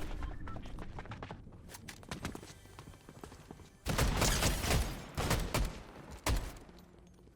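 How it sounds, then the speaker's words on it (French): Gunfire rattles through a Fortnite match, starting as scattered distant pops over game ambience and swelling into a dense, loud volley of shots with brief gaps between bursts. "Ça me tire dessus."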